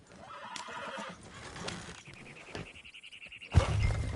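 Horses in Red Dead Redemption 2 whinny loudly, with a long drawn-out neigh and steady clip-clopping hooves, ending in a sharp louder snort.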